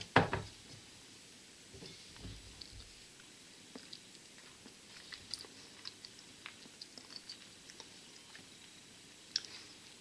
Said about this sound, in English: Let me taste this one here.